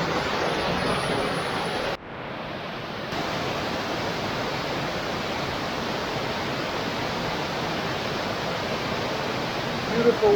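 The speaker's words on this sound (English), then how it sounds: "Beautiful waterfall." Nhi Ho waterfall roars as a loud, continuous broadband wash of falling water, nearby and steady, with a brief dip near the start and a faint voice at the very end.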